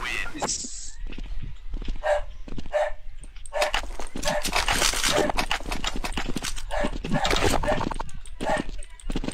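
A dog barks in Red Dead Redemption 2 in sharp bursts among game sounds that include horse hooves, while a person talks over it much of the time.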